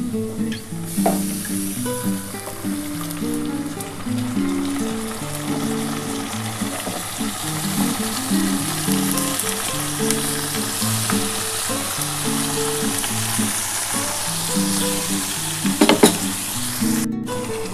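Marinated goat meat drops onto browned onions in a hot pan and fries with a loud, continuous sizzle, punctuated by stirring scrapes near the end, with a tonal hum running underneath.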